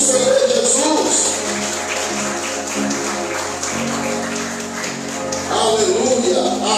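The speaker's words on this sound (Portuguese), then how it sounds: "Aplauda o nome do Senhor Jesus." Congregation applauding during an evangelical church worship service, sustained clapping from many hands over a continuous music bed, with some voices mixed in.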